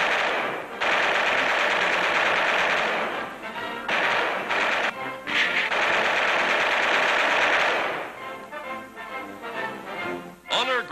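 Machine guns fire during aerial gunnery training at tiny moving targets in a WWII-era newsreel. Long, loud, rattling bursts are broken by short pauses, with choppier bursts near the end.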